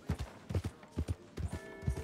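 Horse hooves clip-clop in a quick, steady rhythm of paired thuds in Red Dead Redemption 2, close and moderately quiet with no other sound over them.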